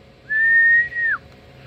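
A single steady whistled tone into a microphone driving a Dentron GLA-1000 HF amplifier, held for about a second, close and loud, ending with a quick downward slide.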